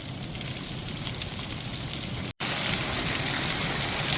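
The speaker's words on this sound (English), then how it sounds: "The rain turned to hail." Rain falls steadily into a courtyard as a dense, even hiss of drops on hard surfaces, broken by a very brief silent gap partway through.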